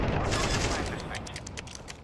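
Counter-Strike 2 gameplay erupts with a loud burst of rapid gunfire and explosive booms near the start, fading into scattered shots and clatter over about two seconds, with a voice talking over the action.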